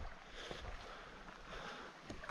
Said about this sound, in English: the wind's definitely picked up at this point